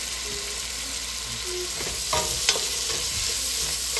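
Onions sizzle in a pan for a sweet chili spaghetti sauce, a steady near frying hiss with a few brief stirring clatters.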